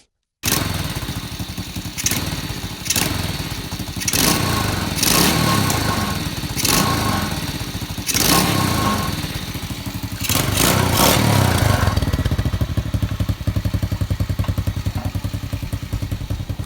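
A farm-use motorcycle engine runs after tuning, a steady close thumping idle punctuated by repeated sharp revs and clatter, settling into a faster even putter toward the end.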